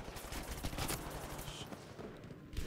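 Battlefield V gunfire, rapid distant and mid-range shots crackling as a dense fusillade over a busy battlefield background.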